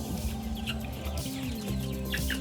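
Chickens cluck and call steadily inside a poultry coop during the rainy season, several birds close by and overlapping, with no talking.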